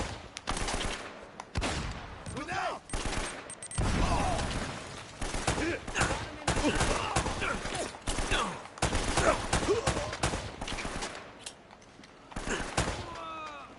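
Bursts of gunfire crackle through a firefight in the video game Uncharted, with rapid shots and thuds in quick sequence, loud and close, broken by brief pauses.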